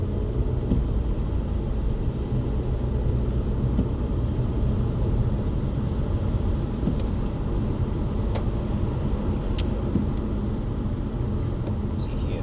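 Steady low rumble of a train rolling past, continuous and fairly loud throughout with a faint background hum and no clear voices.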